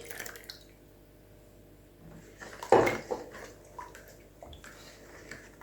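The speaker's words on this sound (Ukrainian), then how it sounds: "Вливаю сюди 500 мл молока." Milk poured into a bowl of mixture for an overnight pastry dough, a short, splashy liquid gush in the middle followed by faint clinks and drips in an otherwise quiet kitchen.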